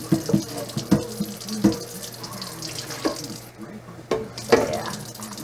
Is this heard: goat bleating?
no